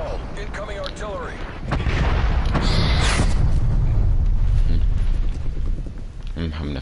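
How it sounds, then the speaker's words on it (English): An incoming artillery strike in Call of Duty: Black Ops Cold War, a heavy rumbling barrage that swells in and roars steadily for several seconds, preceded by brief game chatter. "Artillery targeting detected. Med call. Incoming artillery."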